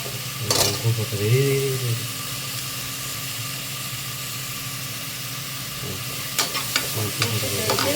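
Mushrooms sautéing with salt in a pan alongside onion and tomato, a close steady sizzle with scraping stirs at the start and again near the end, no talking.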